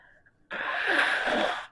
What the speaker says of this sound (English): I've been sneezing my head off.